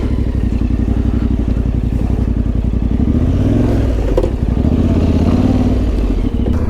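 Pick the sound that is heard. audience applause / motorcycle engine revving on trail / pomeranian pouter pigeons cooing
motorcycle engine revving on trail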